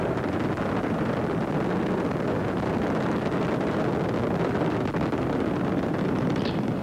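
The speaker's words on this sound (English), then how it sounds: "Three engines on Discovery now throttling down to 2/3 throttle" Space Shuttle Discovery's three main engines roar during the STS-63 launch, a loud, dense, continuous rumble with wind-like buffeting that holds steady throughout.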